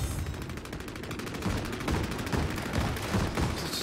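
A repeater gun fires continuously in the game Vampire: The Masquerade – Bloodlines. Loud, rapid shots rattle on without pause in a dense, chaotic stream of gunfire.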